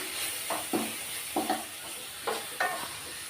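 Spices and chilli powder stirred and scraped in a hot pan for bitter gourd gravy, with a steady sizzle underneath and a few soft spatula strokes; no voices.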